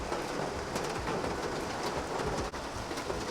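Heavy rain pours steadily during a flood-season downpour in city traffic, a dense continuous hiss close around with low rumbling underneath and no talking.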